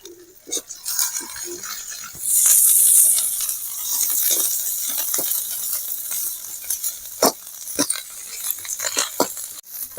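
Sandi keerai greens sautéing in hot oil in a pan give a steady sizzle, with a loud hissing burst early on and repeated scraping, clinking stirs of a spoon against the pan throughout.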